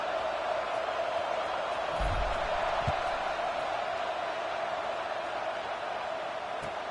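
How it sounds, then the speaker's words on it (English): A football stadium crowd keeps up a steady, dense murmur for the whole stretch, loud and unbroken, with no single voice standing out. "this crowd is buzzing after that last score"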